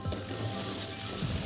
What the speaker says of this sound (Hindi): अब इसे आप तब तक भुने जब तक ये तेल ना छोड़ दे।